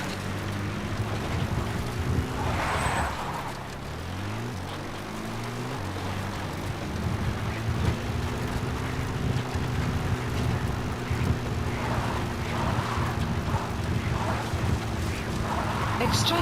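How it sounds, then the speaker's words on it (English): A support helicopter arrives in Metal Gear Solid V: The Phantom Pain, its engine droning and rotor whine shifting in pitch as it approaches, loud and sustained, with voices speaking over it. "Please select a support helicopter"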